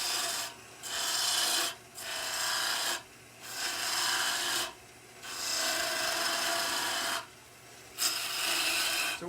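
A detail gouge from a Crown Cryo turning set cuts spinning wood on a lathe, making a close, steady rasping hiss in long sustained passes broken by short pauses as the tool lifts away.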